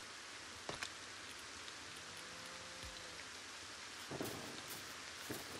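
Steady rain falls in the video game LEGO Fortnite, a constant soft hiss of raindrops with a few louder splashes and brief game tones over it. No one speaks.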